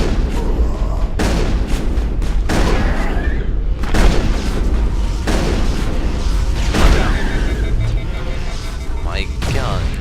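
Heavy gunfire from the Mass Effect game fires in repeated loud booming bursts against enemy husks, with someone talking over the shots.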